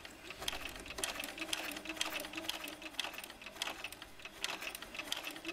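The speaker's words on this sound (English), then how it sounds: "Then release your reverse and sew forward again." A sewing machine stitches a clear vinyl pouch in a steady, fast mechanical chatter, close and continuous, with light rhythmic ticking from the needle.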